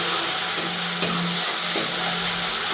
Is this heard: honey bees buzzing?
no